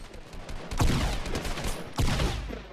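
Two loud shotgun blasts in Fortnite, spaced about a second apart, each a sharp close crack with a short rumbling tail over faint game ambience.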